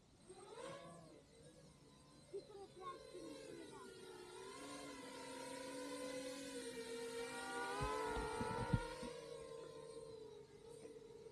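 A steady, rising buzz of FPV drone motors spinning up and holding pitch, fairly close, with voices talking faintly underneath.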